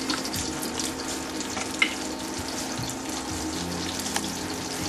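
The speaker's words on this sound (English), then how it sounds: "the oil sounds like it's pretty hot now" Hot oil sizzling steadily in a pan while lamb chops fry for a rustic stew, a dense continuous hiss with a few small pops, fairly close and even in level, with no talk.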